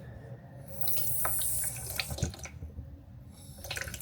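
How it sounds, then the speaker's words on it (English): Water runs from a kitchen tap while room-temperature water is measured for traditional German soft pretzel dough, a steady close splashing stream with a few clinks and knocks, no talk. "So just put 80 grams of water."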